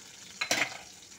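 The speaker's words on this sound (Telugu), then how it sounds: "ఎండుమిర్చి ముక్కలు వేసి వేయించాలి. పోపు బాగా వేగనివ్వాలి." Dried red chilli pieces fry in an oil tempering for semiya pulihora, a brief close burst of sizzling and stirring over a quiet background hiss.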